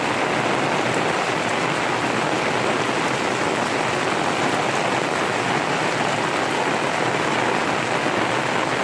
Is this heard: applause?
no